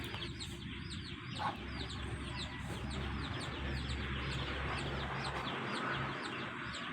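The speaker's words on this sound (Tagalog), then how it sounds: "Marami kang alaga dito na manok," Backyard chickens kept at a family home in the Philippines cluck and chirp at a low level over a constant outdoor rumble, with scattered bird calls mixed in and no talk.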